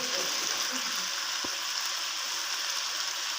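Onion fries in a pan during preparation of tikka macaroni, giving a steady soft sizzle throughout with a brief clink near the middle and no talk.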